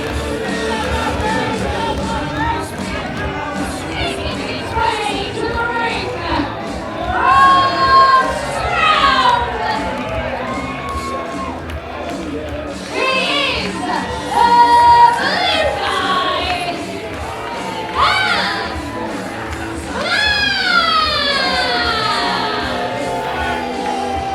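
A hometown wrestling crowd in Stroud cheers for Dan Splash, with scattered yells, whoops and shouts rising in bursts over a steady roar of chatter.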